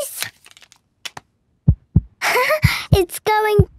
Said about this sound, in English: Dr. Polar Bear can hear Peppa's heart beating.